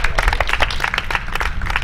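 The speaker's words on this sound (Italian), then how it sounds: "Un altro applauso." Audience applause at an LGBTQI+ rights community event in Cropani, Italy, a steady dense patter of clapping from a crowd lasting the whole short stretch, with a faint murmur of voices beneath.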